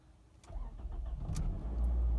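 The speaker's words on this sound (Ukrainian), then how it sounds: "Якщо запустити двигун," A 2005 Toyota Scion engine cranks and catches, then settles into a low steady rumble, close by with no talking.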